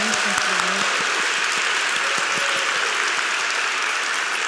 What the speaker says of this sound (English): can we give a round of applause again to our wonderful alchemists this evening?